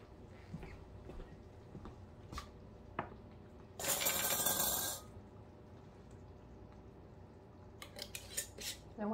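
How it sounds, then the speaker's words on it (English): Metal canning lids clink and scrape as a magnet stick lifts them out of a pot of hot water during chili canning: a few sharp metallic taps, then a brief burst of splashing water, followed by more light clinks. "I'm going to use my little magnet stick and go grab the lid out of the pot"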